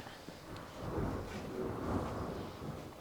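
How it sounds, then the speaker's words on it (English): Distant thunder rumbles low and broad outside an engine dyno shop, swelling twice in long muffled rolls against a quiet background. "there's some pretty good thunder going on here"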